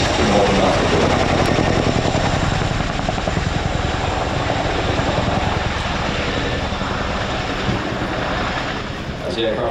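Military aircraft with two 5,000 horsepower engines departing at an air show, a loud, steady propeller and engine roar that fills the whole stretch, holding strong before easing slightly near the end.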